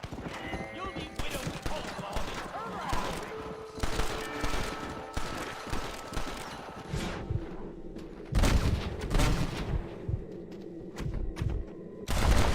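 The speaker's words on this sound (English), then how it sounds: "Keep hearing this gunfire" Scattered gunfire cracks over busy Red Dead Redemption game sounds, with hoofbeats clopping and a horse whinnying, while a person talks over the action.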